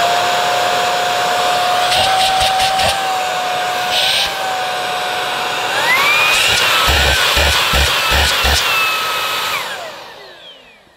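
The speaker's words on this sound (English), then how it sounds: "it is relatively quiet for a cordless vacuum" A Hoover H Free 5 cordless vacuum cleaner runs close up, a steady high whine that rises in pitch midway as the carpet brush roll engages, with brief clicks before it winds down at the end.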